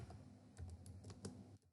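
Typing HTML code on a computer keyboard, a quick run of soft, close key clicks in an uneven rhythm that stops abruptly.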